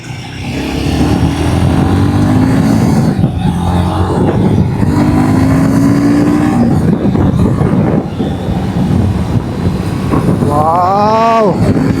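Royal Enfield Guerrilla 450 motorcycle riding on the road, a loud, steady engine drone under heavy wind rush, with the engine pitch rising and dropping as gears shift up and down, and a brief rising whine near the end.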